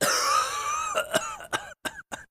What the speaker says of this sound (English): Kick out mucus and quiet the cough